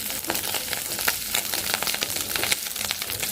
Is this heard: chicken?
no